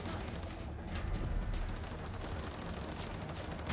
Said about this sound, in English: Now these guys are shooting at me.